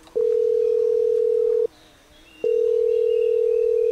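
A telephone ringback tone plays as a call is placed: two long, steady tone bursts of about one and a half seconds each, separated by a short pause, loud and clear with faint background hiss and no talking.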